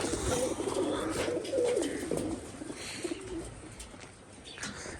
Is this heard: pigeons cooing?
yes